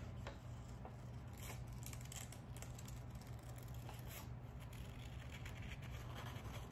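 Scissors cut out a printed paper design, producing faint, quick snips and crisp paper rustles in a quiet room, with no speech.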